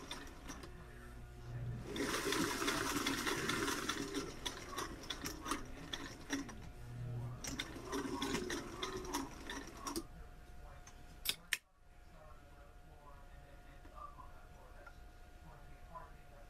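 Sewing machine stitching a welt pocket, running in two bursts of fast, steady mechanical clatter, close and moderately loud, then stopping with a sharp clunk; a voice speaks briefly near the end.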